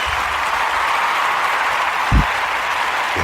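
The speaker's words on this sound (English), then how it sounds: "Give her a round of applause." Applause for a DJ on a podcast, a brief even wash of clapping with a single low thump partway through.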